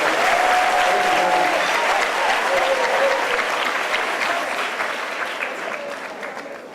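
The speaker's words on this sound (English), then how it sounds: "Ladies and gentlemen, let's give the children a round of applause." A large crowd claps continuously in sustained applause, loud at first and slowly fading, with faint voices mixed in.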